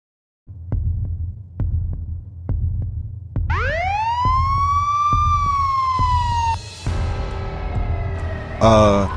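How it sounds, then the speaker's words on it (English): Police siren wailing, rising in pitch and holding loud and near over a steady low throbbing hum, then fading into a different tone near the end. "Why do I hear sirens?"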